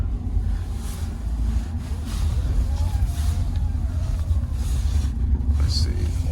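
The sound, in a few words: Toyota Avalon car driving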